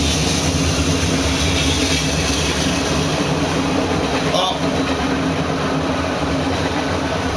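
A steady, loud rolling rumble of a train passing in the WWE 2K19 game, continuous and dense from start to finish without breaks.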